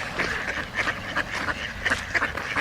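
Several ducks quack in quick, uneven bursts, fairly close, repeated clusters of nasal calls with no speech over them.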